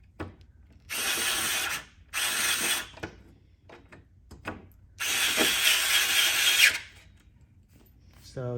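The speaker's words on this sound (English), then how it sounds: "go around the bottom and screw them all in" A power driver drives screws into pre-set metal screw holes on a corner desk with outlets, three bursts of whirring, the last and longest near the end, separated by quiet handling clicks.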